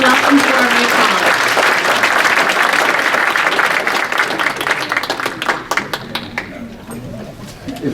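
A room full of college staff applauding new colleagues at a service day gathering, loud continuous clapping that thins toward the end, with some voices murmuring underneath.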